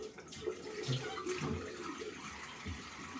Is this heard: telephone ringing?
no